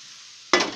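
A steady frying sizzle from a pan of methi and tomato mixture with chili powder, then a spoon stirring in close, loud scraping strokes near the end.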